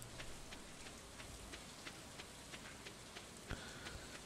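Steady rain falls in a Stardew Valley farm scene, a soft continuous patter of drops with faint recurring ticks and one brief louder knock, with no talk over it.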